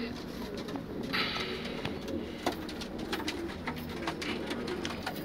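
Pigeons for sale in Syria coo repeatedly from a loft, steady soft calls over a constant background murmur of birds.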